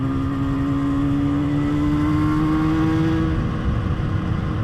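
Moto Guzzi TS 250 two-stroke motorcycle running at its first start, a loud steady buzzing idle close by that rises slightly in pitch before settling, with no talking.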